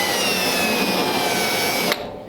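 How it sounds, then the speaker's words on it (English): A carbide burr on a power tool grinds primer off the steel of a 1930 Ford Model A Roadster inner door structure for welding, a steady high whirring scrape that stops abruptly near the end. "you can go through and do this with the carbide burr"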